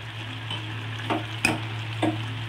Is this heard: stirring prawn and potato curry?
yes